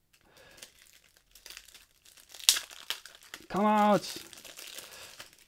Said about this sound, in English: when you want to open cards quick